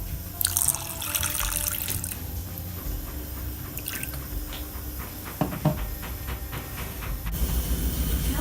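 Water is poured into a pot of sugar to make syrup for Greek galaktoboureko custard filo roll: a hissing, splashing trickle that runs for several seconds, followed by a few light clinks.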